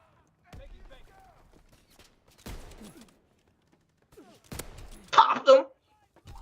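Gunfire in a World War II video game: a few sharp, isolated shots cracking out seconds apart over a quiet background, with a brief voice near the end.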